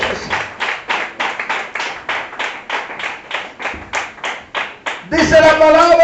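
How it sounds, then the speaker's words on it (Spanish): A church congregation claps in unison during a worship service, a steady run of sharp, loud hand claps in a regular rhythm, then louder singing or music joins near the end. "Fuerte el aplauso."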